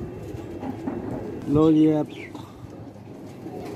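An old pigeon of the 35 wala breed gives one short, close coo midway through, while a voice speaks quietly before and after it.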